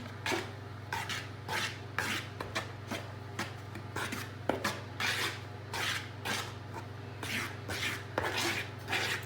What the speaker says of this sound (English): Now stir it with your knife.